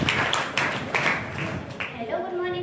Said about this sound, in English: Let's give a big clap for Sayyed Sana.